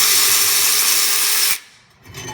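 Impact gun breaking loose the top caliper bracket bolt on a Toyota Sienna front brake, a loud, close, steady buzzing burst that cuts off sharply, leaving a brief quiet.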